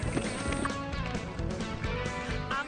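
Horses walk along a horseback riding trail lined with pine trees, hooves clip-clopping in a steady uneven rhythm at moderate distance over faint outdoor background.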